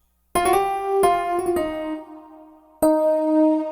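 DX-style electric piano patch played on a Casio PX-5S stage keyboard: bell-like chords struck in short phrases, a cluster of attacks followed by a sustained ringing chord, then a fresh chord after a pause, with no voices.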